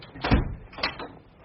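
A door swings shut in a wooden house as Lord Avon arrives late at night, giving two quick knocking thuds close by, one heavy and one lighter, with no talk.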